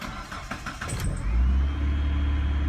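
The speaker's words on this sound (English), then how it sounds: "this is a cold start the next morning" A 2002 Mitsubishi Lancer with a 2-liter engine makes a cold start the next morning: several quick starter clicks and cranking, then the engine catches with a loud low rumble that settles into a steady idle.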